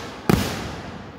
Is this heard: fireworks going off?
yes